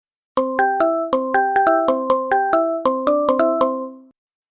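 A phone rings in a hotel room with a bright melodic ringtone, a rapid run of chiming tones repeated in phrases for about four seconds, loud and close, with no voices.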